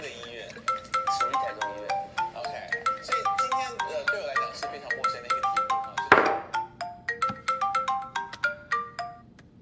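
A phone plays a melodic ringtone for an incoming call, a close, looping tune of bright tones with one louder thump partway through.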